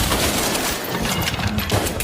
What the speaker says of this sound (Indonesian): tembakan bertubi-tubi bersarang di tubuh rekannya